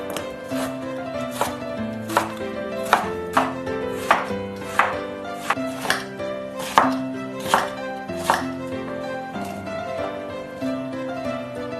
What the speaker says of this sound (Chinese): 把这萝卜切成小方块，萝卜皮是不需要去掉的。